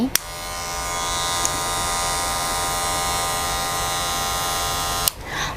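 A steady electric buzzing hum of a cordless Wahl Taper hair clipper running continuously at 5,500 rpm, close and fairly loud, with a couple of brief clicks near the start and end.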